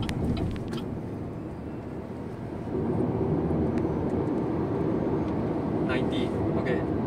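BYD Dolphin Standard Range electric car accelerating at full throttle at night: a steady cabin rumble of road and wind noise that swells partway through and stays loud, with a voice talking over it.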